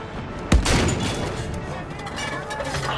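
Gunfire in the video game Battlefield 5: a sharp close shot rings out, followed by a dense rattle of distant shooting and explosions that keeps going for the rest of the clip.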